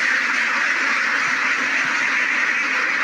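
A flock of ducks quacking continuously and loudly, many overlapping calls forming a dense, steady chorus close by.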